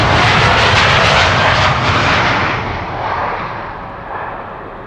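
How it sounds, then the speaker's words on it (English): A KLM Boeing 787-10 Dreamliner jet bound for Bogota at Amsterdam Schiphol Airport, its engines roaring loudly and close, a broad rumbling roar that slowly fades as the aircraft moves away. "(787-10) Dreamliner going to Bogota in Colombia"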